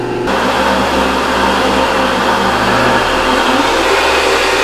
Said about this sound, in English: I'm just gonna let this Vitamix do all the work.